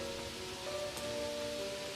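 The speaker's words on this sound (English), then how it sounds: "Rain started to pour down as I walked home from school." Heavy rain pours down steadily in a windy storm on a deserted street, a constant soft wash of noise with no break.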